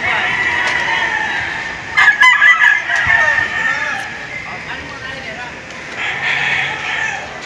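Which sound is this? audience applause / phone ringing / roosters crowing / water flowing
roosters crowing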